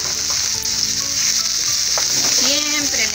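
Diced onion hits well-heated oil in a pan and sizzles with a loud, constant hiss close by, broken by a few faint tonal clinks and scrapes.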